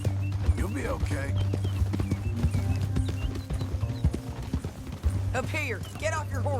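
Horse hooves clip-clop in a steady galloping rhythm in the video game Red Dead Redemption 2, with a whinny near the end and voices talking over it.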